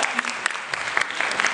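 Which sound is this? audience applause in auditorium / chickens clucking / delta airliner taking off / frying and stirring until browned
audience applause in auditorium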